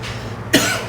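A single sharp, close cough from a man, breaking in abruptly after a low, quiet room background.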